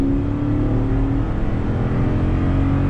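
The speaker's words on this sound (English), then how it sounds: "even though it doesn't have a TRD catback exhaust like the Tundra, still has a great V8 sound" A 2020 Toyota Sequoia TRD Pro V8 engine accelerating off-road after a U-turn, a loud, steady, deep throaty rumble that holds at close range.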